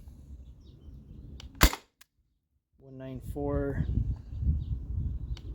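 A modified T4E TR68 marker with a 1mm drilled restrictor fires a single sharp CO2 shot close by, followed by a brief gap, and then someone talks over lingering hiss and handling noise.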